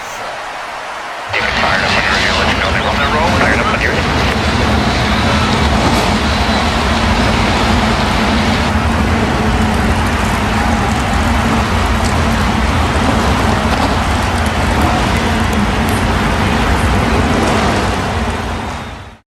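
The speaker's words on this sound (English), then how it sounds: "The engines are fired here in the Great American Race as the cars roll off here." A loud, sustained roar of race car engines rumbling steadily as they fire and roll off at the Daytona 500, surging up after a brief quieter start and holding full volume before fading at the end.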